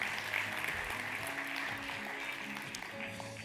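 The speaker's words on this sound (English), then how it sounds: "Merci de l'applaudir." Applause from an audience at a conference as a guest speaker is called to the stage, a fairly quiet, steady wash of clapping in a large room with a low hum underneath.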